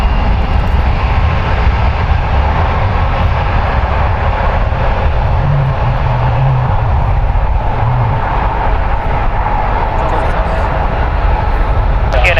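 United Airlines Boeing 757-300, 21 years old, departing toward Chicago, a loud sustained jet engine roar with a faint tonal whine through the middle, steady to the end.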